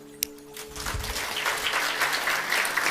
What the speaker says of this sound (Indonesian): Tepuk tangannya masih ragu-ragu